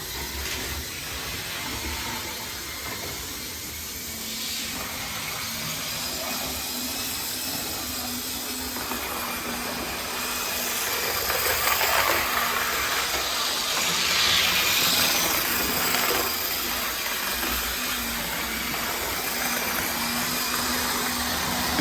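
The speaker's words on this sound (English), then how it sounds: "So we now have my DC Loco chasing after the DCC Loco on the same track." DC and DCC model train locomotives run together on the same track, giving a steady whirring hiss with a constant electrical hum that swells slightly in the middle of the run, with no voices.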